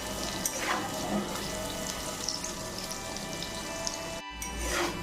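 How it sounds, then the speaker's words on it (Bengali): Cut potatoes with turmeric and salt frying in hot oil: a steady, close bubbling sizzle with scattered crackles running throughout. "এবার খুব ভালোভাবে আলুগুলো ভেজে নেব।"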